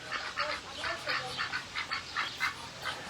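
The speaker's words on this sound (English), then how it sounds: "All the ducks." A group of ducks quacks repeatedly outdoors, overlapping calls at a steady rhythm, moderately loud and close with no talk over them.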